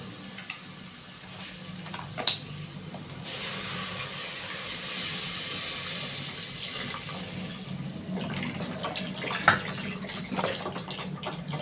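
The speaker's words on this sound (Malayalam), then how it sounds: "നമുക്ക് ഇതിലേക്ക് പാലൊഴിച്ച് കൊടുക്കും" Milk pours steadily into a pot of softened carrots for payasam, a continuous watery hiss and gurgle that swells and carries on for several seconds at moderate loudness with no talking.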